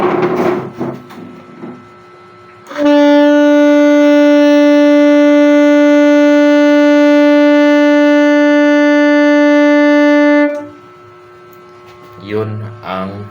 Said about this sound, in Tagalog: Kasi ito ang tunog niya pag tinugtog natin yung saxophone.